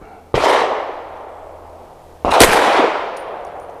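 Two sharp, loud reports from an American Precision Firearms Arsenal Strike One pistol firing Hornady Critical Defense 100 grain rounds, spaced about two seconds apart, each with a ringing decay, and no voices.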